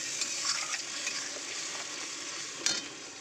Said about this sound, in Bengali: তাই ভালো করে কষাবো এখন